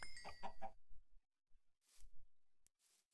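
Minecraft chicken clucks in short, quiet bursts, a few soft repeated clucks separated by brief silences, with no talk over them.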